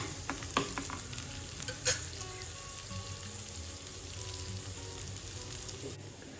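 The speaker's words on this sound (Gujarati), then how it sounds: "ઓનિયનને પણ આપણે 2 થી 3 મિનિટ માટે કૂક કરી લઈશું" Onion softening in a hot pan gives a continuous close sizzle, with a few sharp clinks of a spoon stirring near the start, otherwise steady and unaccompanied.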